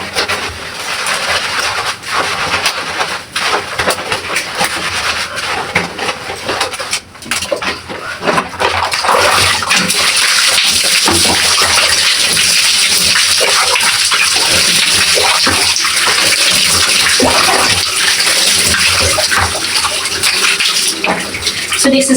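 Running water splashes and streams steadily while long hair is scrubbed and lathered during a shower, a continuous close wash of spray and rubbing with brief dips.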